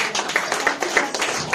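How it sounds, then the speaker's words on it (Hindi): An audience claps at a church healing conference, a brief, close burst of irregular handclaps from a small group. "जो ताली बजाओ"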